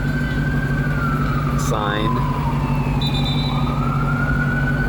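Emergency sirens wail and sweep over a constant hum of Miami city traffic, and a voice speaks briefly.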